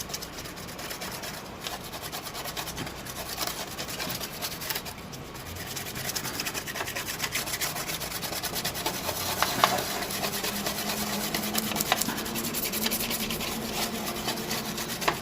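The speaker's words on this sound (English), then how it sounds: "I'm just spreading it out so it'll evaporate quicker here." Cloth or brush rubbing alcohol-based cleaner across a computer motherboard, a steady close scrubbing and rasping that continues evenly throughout with no talking.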